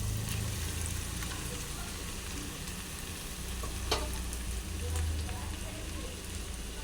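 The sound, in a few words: leftover rice frying in a pan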